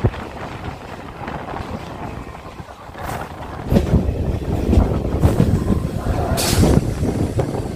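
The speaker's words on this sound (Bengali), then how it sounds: "আমাদের ট্রেন প্রবেশ করলো কুন্তিঘাট রেলওয়ে স্টেশনে।" A train rolls across the Kunti river bridge with a continuous low rumble and rattle, growing louder toward the end, partly buffeted by wind against the microphone.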